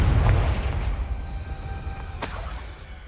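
A Confringo fire spell explodes in Hogwarts Legacy with a deep low boom at the start that rumbles and fades, followed by a sharp crackling burst a couple of seconds later.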